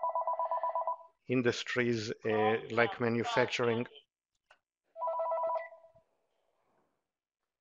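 A telephone rings in repeated trilling bursts at the start, then talk begins, and one more ring bursts out after the speech pauses.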